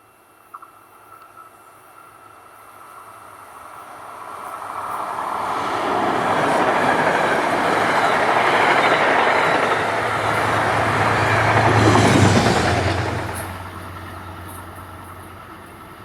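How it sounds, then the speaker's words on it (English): A southbound Hudson Line passenger train heading for Grand Central passes through Cold Spring, being shoved from the rear. It swells from a distant rumble to a loud roar with a heavy low drone, then fades. "Our first train in Cold Spring is a southbound heading for Grand Central with the 201 shoving."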